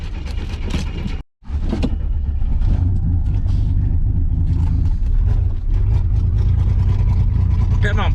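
A flooded vehicle engine struggles and revs, loud and close, rough and uneven, cutting out briefly before roaring back and straining, with a voice talking over it.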